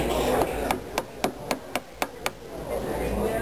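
Mallet tapping a woodcarving gouge at a woodcarving show, about eight sharp, evenly spaced taps in a steady rhythm, fairly close over a soft background hum.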